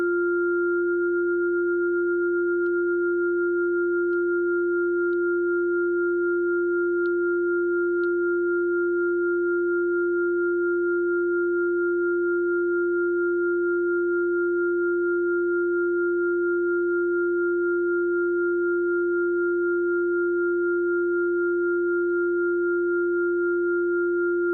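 Tuning software plays steady pure sine tones of matched fourth partials, a constant, even hum that holds unchanged and alone throughout.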